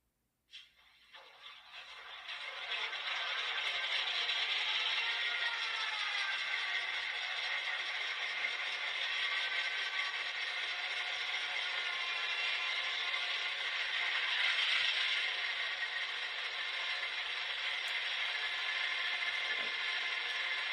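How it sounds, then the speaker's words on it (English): A Walthers E9 model locomotive's prime mover, played through an ESU LokSound decoder, cranks over and starts, then holds a steady, fairly loud diesel rumble with a slight swell partway through. "first order of business is to fire up the prime mover on these, which for the ESU LOKSound decoder is F8"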